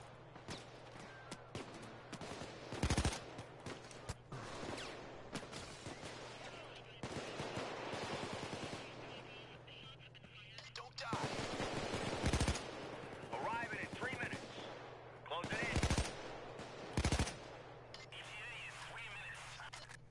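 Submachine gun fire in the PayDay video game, sharp loud bursts scattered through a busy firefight, with voices talking over much of the action.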